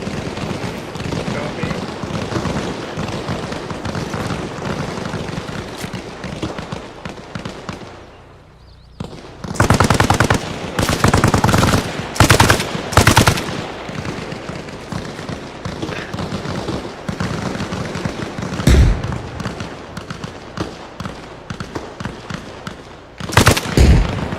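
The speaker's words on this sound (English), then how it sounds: "Please tell me one of you's not shooting at me." Gunfire from the video game ARMA Reforger: dense rapid bursts of automatic weapon fire crackle almost continuously, with a brief lull and then louder close shots, over faint background ambience.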